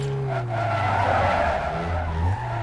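A car's tires skid and squeal through a U-turn in the video game Need for Speed Most Wanted, with a sustained screech over the rising and falling drone of the engine.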